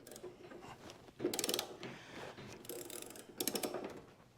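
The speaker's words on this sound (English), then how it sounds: "And then I like to ratchet it over here, switch hands until you hit the other side." A ratchet wrench tightens a suspension bolt on a Porsche 911, giving short bursts of quick clicking at close range with quieter mechanical shuffling between them.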